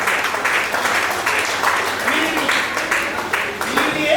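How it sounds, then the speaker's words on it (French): Guests at an evening wedding reception applaud the couple in a sustained burst of clapping that stays loud and even throughout, with voices mixed into the crowd noise. "On applaudit pour ce couple encore une fois"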